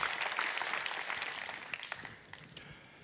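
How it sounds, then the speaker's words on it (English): Audience applause at a Xiaomi 13T launch event honoring a Leica Academy instructor, a dense burst of many hands clapping that thins and fades toward the end. "If everybody could please join me in giving him a round of applause"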